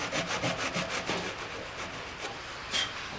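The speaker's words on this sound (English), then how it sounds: "This is my very dull saw." A very dull hand saw grinds through a piece of wood at a woodworking bench, steady rhythmic rasping strokes about three per second, close and moderately quiet, with no voices.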